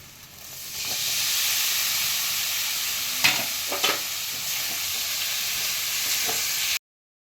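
Soaked flattened rice (poha) tipped into a hot pan with little oil, giving a loud continuous sizzle with a few scraping stirs midway, close up and without talk, ending abruptly in silence.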